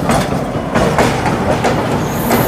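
A WAG7 locomotive rumbles past alongside a moving train, with steady heavy rolling noise and rhythmic clickety-clack of wheels close by and loud throughout.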